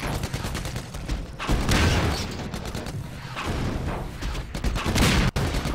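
Gunshots in the shooter game Half-Life sound as repeated sharp, loud bursts in an uneven rhythm over continuous noisy combat, with no clear talking.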